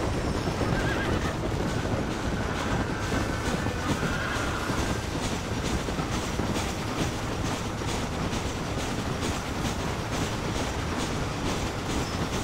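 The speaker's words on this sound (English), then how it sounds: "Damn, this fucking horse is fast." Horse galloping in the video game Red Dead Redemption on Xbox Series X, a steady dense rumble of hoofbeats and motion noise running continuously at full loudness for the whole stretch, with no talk.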